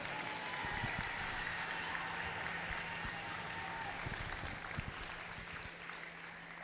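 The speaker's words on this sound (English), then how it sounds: "So please give a round of applause to Team 17483 Blackout." Applause from the audience at a FIRST Tech Challenge robotics qualifier award ceremony in Broomfield, a broad, distant-sounding wash of clapping in a large hall, steady and moderately quiet with a few closer claps.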